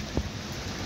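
Heavy rain with gusting wind at an open-air market in Khidirpur, a steady broadband roar of downpour with a brief louder burst near the start, no voices heard.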